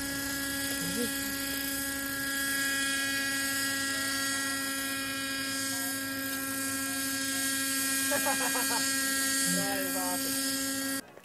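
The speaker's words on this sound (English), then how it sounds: "But here's the footage of the Raptor 30 flying." Raptor 30 RC helicopter in flight, a steady loud whining rotor and engine drone running throughout with a constant pitch, plus brief faint voices or chirps in the background near the end.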